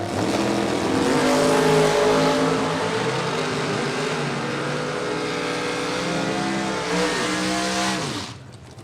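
Nova and Mustang door-slammer drag cars launch and roar down the strip together, a loud sustained multi-engine wail with shifting harmonics that drops away abruptly near the end.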